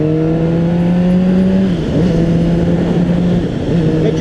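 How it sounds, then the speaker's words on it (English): Cars cross a street intersection, with a loud, close engine hum whose pitch holds steady then drops as one vehicle passes, followed by continuing traffic rumble and a second engine tone rising at the end. "cars coming over that intersection"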